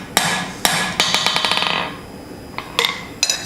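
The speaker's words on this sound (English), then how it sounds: "Nice firm hits just to get things going. Bring it out. Hitting straight down on the anvil." A hammer strikes tongs on an anvil during forging, landing a few separate ringing metallic blows, then a quick burst of lighter strikes, then a couple more hits near the end.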